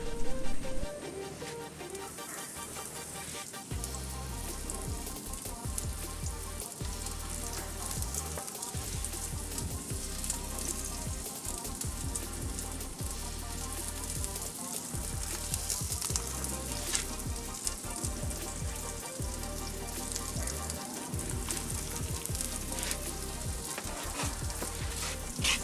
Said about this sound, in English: So we're gonna let the onions cook down